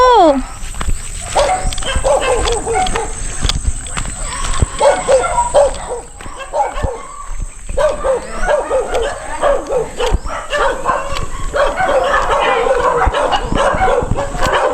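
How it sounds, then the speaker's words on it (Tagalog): Several dogs bark and yip repeatedly at close range, some whimpering, while people talk and call out over them. "Ang daming aso."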